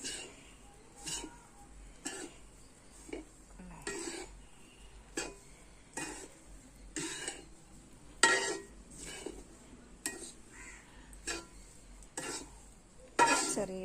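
Chili powder is stirred in a hot pan off the flame while prawn chammanthi is made. Soft, regular scraping strokes come about once a second, faint and close, with a light sizzle underneath and no voices.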